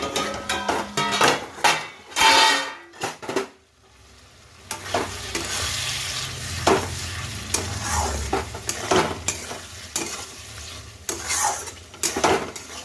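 Masala frying in a pan with potatoes and green chilies, opening with loud clanks and knocks of metal utensils on cookware, a short lull, then a steady sizzle with intermittent stirring scrapes and taps.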